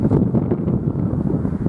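Strong outdoor wind buffets the microphone, a loud, continuous low rumble lasting the whole short stretch with no talking.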